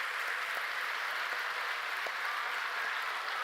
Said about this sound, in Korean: 우리 유모차 부도래들을 위해서도 박수 한번 치겠습니다.